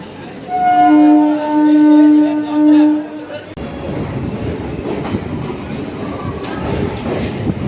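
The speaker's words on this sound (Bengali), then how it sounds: "এক নম্বরে আমাদের ট্রেন এসে পৌঁছালো কলকাতা স্টেশনে।" Jammu Tawi Express 13151 pulls into platform one at Kolkata station: a drawn-out tonal horn sounds in several pulses, then gives way to the continuous rolling rumble and clatter of the coaches.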